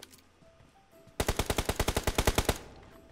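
Rapid automatic gunfire from a shooter video game, about a dozen loud, evenly spaced shots in a single burst, preceded by a low hum of quiet game ambience.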